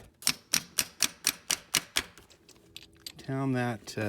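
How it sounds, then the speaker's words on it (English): A steady series of about eight sharp metallic taps as a 15mm socket drives a seal into place during a VCT solenoid replacement on a 2004–07 Ford 5.4 engine, followed by a short spoken remark. "I'm gonna take a 15mm socket and just pound that"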